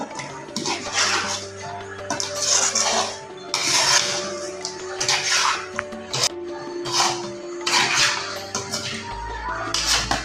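Chicken pickle mixed with lemon juice in a metal vessel: repeated scraping, clanking stirs and wet squelching come in rhythmic bursts, close and fairly loud, with a low hum underneath.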